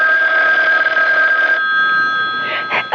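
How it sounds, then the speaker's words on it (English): An old telephone bell rings loudly and continuously as a radio drama effect, its bright metallic trill cutting off near the end as a voice begins. "Oh, that's the phone, Parker."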